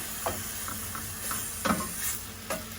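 Oyster mushrooms sautéing in a pan: a steady soft sizzle with a few scattered utensil stirs and scrapes, close and fairly quiet, no talking.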